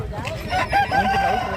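A rooster crows once, loud and close, a drawn-out, strained call over some background rumble at a rooster market in Gudur.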